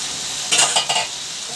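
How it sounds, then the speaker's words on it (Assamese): Pumpkin and chicken being stirred as they fry in a pan, a soft sizzle broken by three quick scraping strokes of the spoon, close and clear, with no talk. "মই ৰঙালাও ভাজিখিনি এবাৰ মাজতে লৰাই দিওঁ।"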